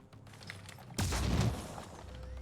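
A single heavy sniper rifle shot in the tactical strategy game Phoenix Point, a sudden loud crack with a booming low-end tail that fades over about half a second against quieter background sound.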